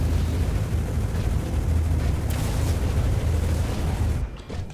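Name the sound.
spaceship exploding in Star Citizen video game dogfight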